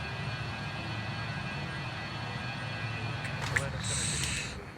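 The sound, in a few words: BAe 146-300 airplane engines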